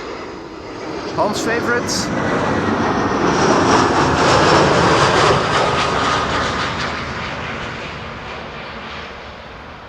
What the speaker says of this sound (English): Vueling flight 8367, arriving from Malaga.